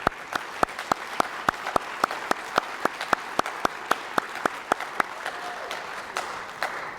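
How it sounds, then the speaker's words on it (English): Sparse applause at an awards night: a small audience claps in a steady, distinct rhythm for about seven seconds, the individual hand claps clear and fairly close, tapering off near the end. "Let's give them a round of applause."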